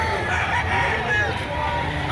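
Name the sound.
rooster crowing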